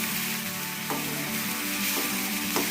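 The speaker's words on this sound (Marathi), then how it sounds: "टाकलेला जो कांदा आहे आता तो परतायचा." Sliced onion fries in a wok for a Malvani chicken rassa, a loud, close, continuous sizzle with a few spatula scrapes while it is stirred.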